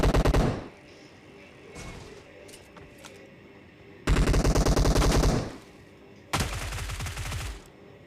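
Automatic gunfire in the video game PUBG rattles in rapid bursts: a short one at the start, then two long loud sustained volleys later, with quieter pauses between them.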